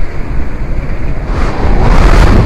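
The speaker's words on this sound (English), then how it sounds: "I just got a gust of 40 knots." Strong 40-knot wind gust roaring over a sailboat at sea, a loud continuous rush of buffeting wind and water that builds in force toward the end.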